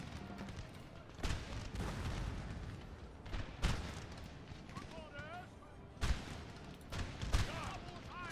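Napoleonic battle in Napoleon Total War, with cannon booms and musket volleys cracking at intervals, some close and loud, others distant, under a steady backdrop of battle noise and someone talking.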